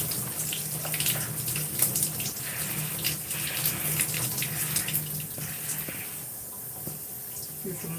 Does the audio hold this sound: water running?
yes